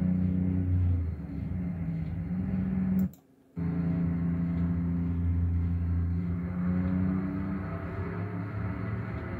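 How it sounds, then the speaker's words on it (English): A 4.0-litre car engine idles with a steady low rumble, briefly cut out for a moment, then resuming at the same even level. "we want to hear the car"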